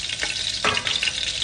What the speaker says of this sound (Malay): Sudah itu kita goreng kita punya udang pula.